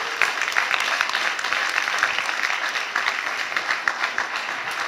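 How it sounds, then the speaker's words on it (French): An audience gives a warm round of applause during a talk about love, with steady, moderately loud clapping from a crowd that carries on evenly to the end. "On leur donne une bonne main d'applaudissements."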